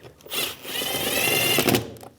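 Power tool tightening side mirror bolts on a 2015-2020 GMC Yukon: a short, close whirring burst of about two seconds that rises and holds, then stops.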